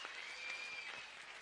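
An audience in a concert hall claps continuously, a dense, even patter of many hands heard at moderate distance, with no break or talk over it.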